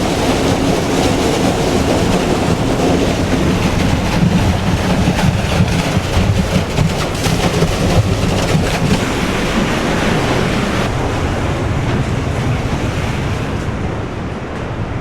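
Agitation system machinery runs at a £6 million aggregate wash plant, a loud, constant roaring rush of churning water and mechanical rumble, with no voices.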